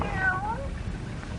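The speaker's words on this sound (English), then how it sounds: "Hey, it's a cat." A cat gives a single short, wavering meow up close, set against a low background hum on an old radio drama recording.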